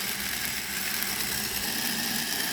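An Einhell TE-BF 18 Li cordless band file runs continuously, its lock switch holding it on, with a steady, fairly loud motor and belt whir that stays even throughout and has no voices over it.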